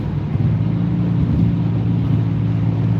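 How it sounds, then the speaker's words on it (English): A big truck rumbles past as a loud, steady low drone that holds even for about three seconds, with no talk over it. "Whoa, you see the big truck coming over."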